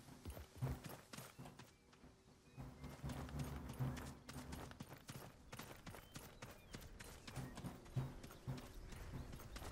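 Galloping horse hoofbeats in the video game Realm Royale, a steady rapid clip-clop rhythm of repeated thuds running through the whole stretch at moderate loudness.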